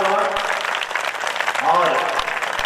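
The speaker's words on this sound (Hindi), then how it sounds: "अभी आपको एक बार तालियां जोरदार हो" Audience applause at a 2015 all-India patriotic poetry gathering (kavi sammelan), a steady wash of clapping that fills the moment, with voices and crowd noise mixed through it.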